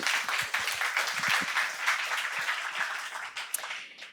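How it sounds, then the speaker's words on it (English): A big round of applause from the audience at an AI startup demo day, a dense, even wash of clapping heard at moderate distance throughout. "raise a big round of applause to everyone who took their time"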